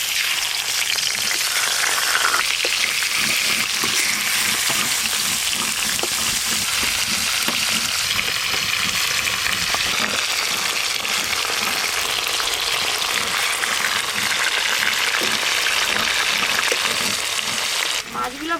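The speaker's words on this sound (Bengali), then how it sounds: "এই যা মাছ আছে এই মাছগুলো দুবারে ভাজতে হবে।" Pieces of freshly caught pond fish fry in a pan, giving a loud, continuous, close hiss of sizzling oil that holds steady for about eighteen seconds.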